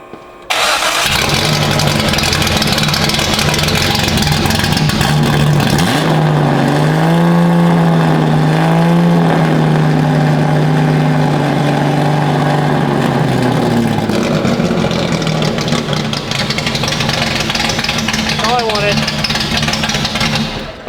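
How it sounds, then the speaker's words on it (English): A Datsun 280Z, sitting unused for five years, cranks and starts, then its engine revs up and down with rising and falling pitch, loud and close, ending in a rough idle, with people talking over it. "The car runs."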